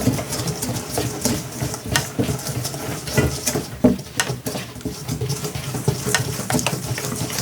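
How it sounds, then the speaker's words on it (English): A wire whisk stirs breakfast batter ingredients together in a bowl, making a close, steady patter of quick scraping taps that continues unbroken with small bursts of louder clatter. "I'm gonna get my whisk over here. So I'm gonna get all of this combined together."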